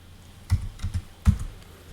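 A few quick keystrokes on a computer keyboard, typed in short clusters while entering a login password; close, crisp clicks in a quiet room with no talking.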